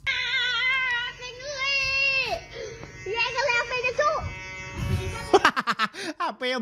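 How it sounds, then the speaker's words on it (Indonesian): A steady, close electric buzz with a wavering pitch, like a hair clipper cutting hair, shifts tone partway through and ends in a quick run of sharp stuttering pulses. "Apa ya bunyi nginget kayak lagi cukur rambut."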